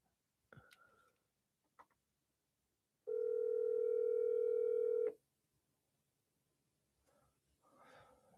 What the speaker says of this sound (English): Okay, is Girlie gonna pick up the phone?